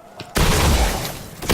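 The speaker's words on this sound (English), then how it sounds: "Let's try this shotgun out." A single loud shotgun blast in the video game Destiny goes off after a brief quiet, its heavy boom ringing out and decaying, with a fainter second report near the end.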